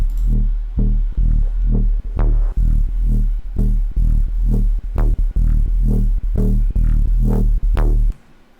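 Gritty drum and bass wubs processed with an erosion effect throb in a repeating pattern, loud and close, with crunchy, eroded texture and occasional sharp clicks before stopping abruptly.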